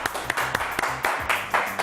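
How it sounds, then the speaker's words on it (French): A studio audience claps to welcome a guest onto a French talk show, a short burst of dense applause with a few sharper individual claps standing out. "Je vous demande d'applaudir à tout rompre Fabien Lecoeuvre."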